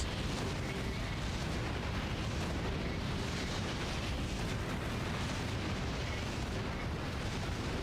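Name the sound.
lava bomb explosions from a video game, Zelda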